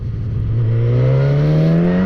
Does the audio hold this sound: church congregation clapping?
no